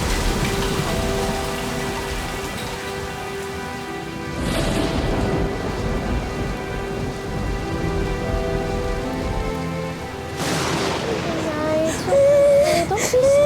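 Steady heavy rain pours down with rumbles of thunder, and a baby cries over the downpour.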